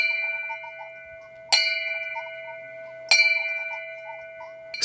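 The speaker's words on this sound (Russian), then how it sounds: "Сто 118 ударов судового колокола по числу погибших в этой трагедии." A ship's bell strikes at a memorial service for the crew of the sunken submarine Kursk, three clear metallic clangs at even intervals, each ringing out and decaying slowly before the next.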